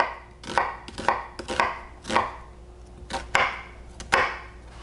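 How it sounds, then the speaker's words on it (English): A knife dicing an onion on a cutting board: about eight crisp, separate chops at an uneven pace, close and clear with no speech. "Then slice down and you've got a diced onion."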